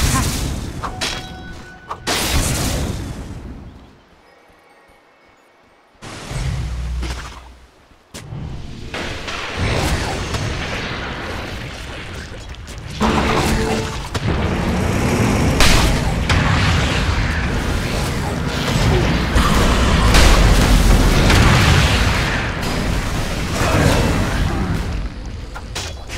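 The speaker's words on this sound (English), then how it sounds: "Dire's middle tower is under attack. Dire's middle tower has fallen." Dota 2 match action as a tower comes under attack and falls: dense, loud game combat with booming impacts, bursts and crashes running almost continuously, broken by a brief lull, with a game announcer voice over parts of it.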